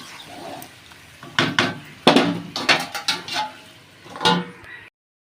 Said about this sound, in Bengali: মাংসটা দিয়ে এবার আমি ভালো করে বেশ কিছুক্ষণ ধরে কষিয়ে নেব